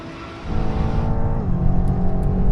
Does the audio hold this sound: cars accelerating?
yes